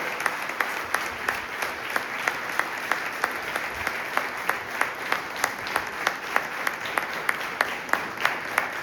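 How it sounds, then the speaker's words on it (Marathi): A large audience claps steadily and in rhythm after a speech at a Pune commemoration for Sarnobat Prataprao Gujar's sacrifice day. The sharp, evenly spaced claps keep going at full strength throughout, with no voices over them. "टाळ्यांचा गजर असाच चालू राहू दे."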